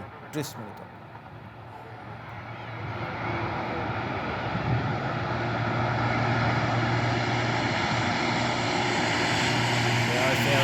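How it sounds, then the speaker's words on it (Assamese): A low, steady aircraft engine roar builds and grows louder as a large propeller cargo plane approaches to land on a highway, with faint voices in the background. "আজি প্ৰথমখন কাৰ্গো বিমান সফলতাৰে অৱতৰণ কৰে"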